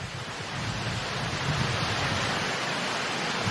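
Ocean surf breaks at Uluwatu, Bali, a dense continuous roar of waves with no voices.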